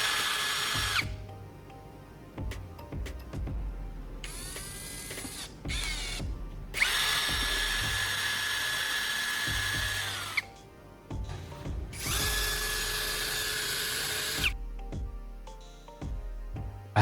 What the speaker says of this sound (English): attach the tool to the drill bit so we can start sharpening the knife